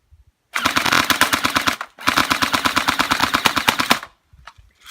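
An airsoft gun firing in two long rapid bursts, a fast even rattle of loud close shots broken by a short pause, with near silence before and after.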